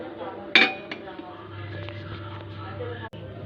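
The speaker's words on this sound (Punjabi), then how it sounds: "ਇਹਨੂੰ ਹੁਣ ਚਾਹ ਨੂੰ ਢੱਕ ਕੇ ਰੱਖ ਦਿੰਨੇ ਆ" A lid is set down on a pot of tea brewing on the stove, giving one sharp metallic clink near the start, followed by a steady low kitchen hum.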